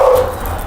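An excited dog gives one short, loud, close bark during a training session at a dog ranch, followed by a brief quieter tail, with no talking.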